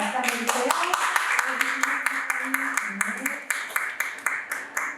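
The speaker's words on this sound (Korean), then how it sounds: "그럼 우리 김영진 작가님 뜨거운 박수로 맞이해 주길 바라겠습니다. 박수 한번 주세요" A small audience at a book salon claps to welcome an author, with sharp individual claps ringing out at an uneven pace while a host keeps speaking over them into a microphone.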